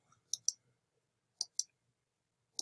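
Computer mouse clicks while running a sketch program: five sharp, isolated clicks, close and clear against near silence, coming in two quick pairs and then a single click.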